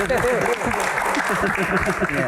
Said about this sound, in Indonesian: tepuk tangan untuk para panelis